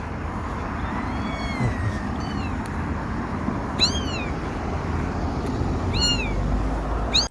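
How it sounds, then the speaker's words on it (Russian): A small kitten's meows play from a phone outdoors, several high thin calls repeated in clusters, heard clearly over a steady rumbling background. "Ну, в смысле, это котенок в телефоне."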